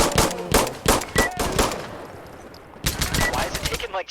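Gunfire in the video game Insurgency Sandstorm: loud, rapid bursts of automatic shots, a short pause, then another burst, close and dominant.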